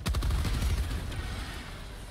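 A short, loud burst of gunfire in the co-op shooter game Helldivers 2, with several sharp shots at the start trailing off into a rumbling decay.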